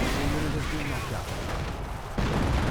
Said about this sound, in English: We got another actual barrage being summoned.